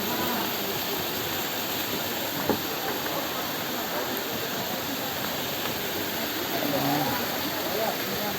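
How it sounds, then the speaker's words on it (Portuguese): Water rushes steadily at the Poço Azul natural pool, a constant broadband hiss that fills the whole stretch at an even level, with no breaks or distinct splashes. "Olha o barulho da água."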